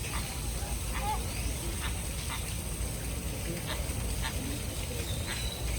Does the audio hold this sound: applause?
no